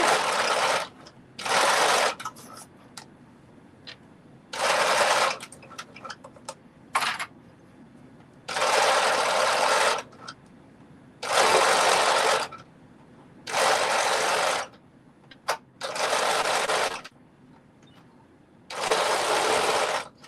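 A sewing machine stitches a knit sock with a 1/4 inch seam allowance in short bursts of rapid whirring, stopping and starting about ten times, close up with quiet pauses between runs.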